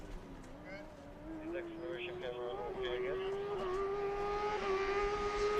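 A Formula SAE race car at an autocross event holds a rising engine note that climbs steadily in pitch and loudness, heard beneath talk from announcers.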